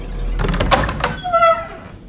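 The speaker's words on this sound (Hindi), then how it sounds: "दरवाजा ऑटोमेटिक खुला," A door in a horror movie opens and closes on its own, heard as a short creaking slide and rattle with a rising squeal near the end, fairly loud against a low rumble.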